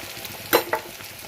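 Elephant foot yam pieces sprinkled with turmeric frying in a pan: two quick stirring scrapes rise over a faint, steady background sizzle.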